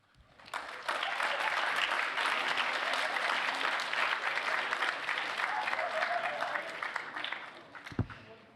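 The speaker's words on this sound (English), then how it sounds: "a round of applause again" Audience applause at a student hackathon closing ceremony, a sustained burst of clapping that rises quickly, holds steady and fairly close for several seconds, then fades out with a single knock near the end.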